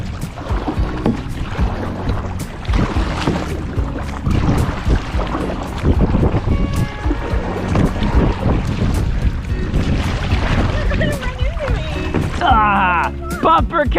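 Plastic kayaks bump and paddle on chilly water during a first outing, with splashes, knocks and wind buffeting the microphone, while people talk and laugh over the watery churn.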